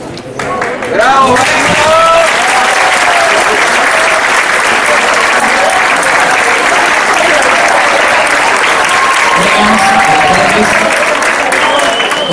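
A concert audience claps loudly and steadily after a live song performance, a dense sustained wall of applause with scattered cheers, lasting throughout.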